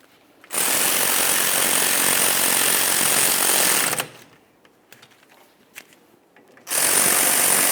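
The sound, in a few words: power tool tightening caliper slider mounting bolts on Ford F-150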